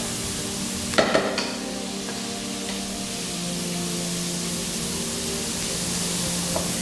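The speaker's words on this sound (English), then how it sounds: "we want to make sure that our onions are nice and sort of caramelizing" Onions with chili caramelizing in a pot for creamy sweetcorn soup, a steady soft sizzle throughout with a few brief clatters of stirring near the start.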